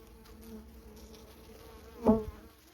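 Honey bees at an active hive, a close, steady buzzing drone with a sharper, louder burst as a bee passes near, set against a quiet outdoor background.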